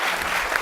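An audience at a conversation event breaks into steady applause, a dense even wash of clapping hands heard alone for a short moment.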